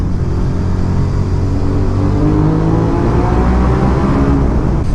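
A second-generation Suzuki SV650S motorcycle pulls hard, its engine note rising steadily through the revs under heavy wind roar, loud and close throughout.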